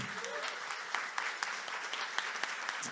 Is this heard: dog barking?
no